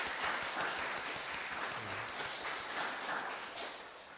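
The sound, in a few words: church congregation applauding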